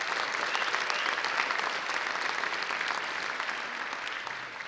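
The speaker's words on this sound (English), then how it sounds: "Please join me in a round of applause for our top 10 freshmen" Audience applause at a university awards ceremony honouring top ten freshmen, sustained even clapping from a large crowd that slowly eases in loudness toward the end.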